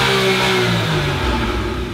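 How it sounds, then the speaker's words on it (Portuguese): A Porsche Boxster's engine revs up loudly and close while parked with the handbrake on, its note climbing and then holding steady as a continuous roar. "E olha o ronco."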